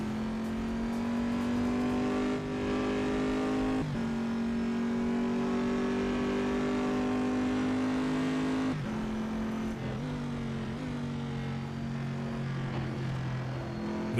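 Corvette engine in a racing video game holding a steady, loud drone with harmonic whine that climbs slightly, dips with a gear change around the middle, then rebuilds, running continuously without talk.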